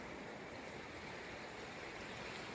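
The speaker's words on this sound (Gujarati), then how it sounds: "આ બધા પહાડોની વચ્ચેથી આ નદી વહી રહી છે" A river flows between mountains near a dam at a riverside campsite, heard as a steady, faint broadband rush of water with no voices.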